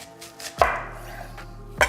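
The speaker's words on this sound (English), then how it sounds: "I'm gonna show you how I finely dice my onions." A knife finely dicing onions on a cutting board during meatloaf prep: two crisp, close chops about a second apart over a low steady kitchen hum, with no talking.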